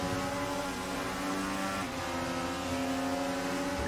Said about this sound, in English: You can hear Charger keeping on and off the throttle there.